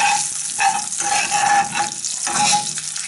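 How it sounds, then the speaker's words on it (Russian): Chops of turkey liver fry in a pan, a steady close sizzle with crackling spatter that swells and eases in waves, no voices. "Так, отбивные я пожарила."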